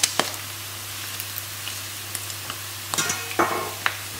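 Pork frying in a pan for Goan sorpotel, a steady sizzle with spatula stirring and scraping clicks, close and alone, with a low electric hum underneath.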